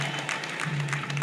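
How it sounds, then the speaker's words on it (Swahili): An audience of public servants at a gathering in Iringa claps in a brief burst of dense, steady applause from many hands. "Simpige makofi sasa hapo kidogo."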